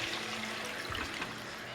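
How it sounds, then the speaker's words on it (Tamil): Water pours into a pot of washed mutton for a Kerala-style tapioca mutton curry, a short, close, continuous splashing stream without talk. "தண்ணி ஊற்றுறேன்."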